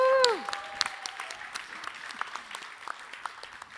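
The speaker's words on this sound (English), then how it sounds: "a round of applause for Commu" An audience at a startup founders' pitch event applauds, a steady patter of claps continuing for several seconds after a brief tonal sound at the start.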